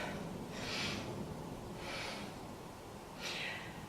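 Three deliberate yoga breaths taken through the nose, each a soft airy rush spaced about a second apart, faint and close with a quiet room behind.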